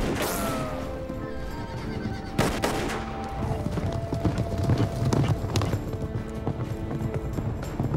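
Horse galloping during a stunt ride for a Western-style film scene, with rhythmic hoofbeats, a whinny and a sharp crack partway through, a busy outdoor mix throughout.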